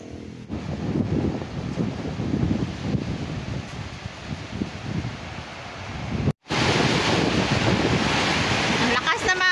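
Strong typhoon wind buffets the microphone in a continuous roar, gusting unevenly, with a short cutout before the blustering resumes.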